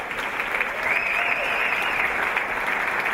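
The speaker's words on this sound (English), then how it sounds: "Give yourselves a big round of applause." Sustained, dense applause from a crowd at a jazz and soul party, steady and fairly loud throughout, with a faint whistle or cheer drifting over the clapping.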